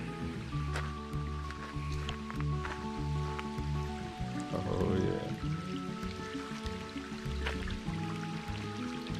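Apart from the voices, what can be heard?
small waterfall flowing down a trail stream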